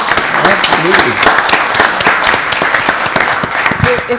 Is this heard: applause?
yes